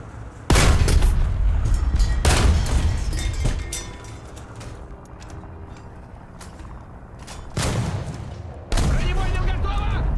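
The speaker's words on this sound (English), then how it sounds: "You also get this machine gun on the back that actually works." A rear-mounted machine gun on a Russian premium tank in a combat video game fires a loud, sustained burst, then keeps rattling more softly before two more heavy bursts near the end, with a voice talking over it.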